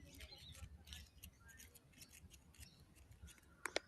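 Papery paper daisy petals brushed by hand, giving a close, dry scratchy rustle in small bursts over a faint outdoor background, with a few sharper crisp crackles near the end.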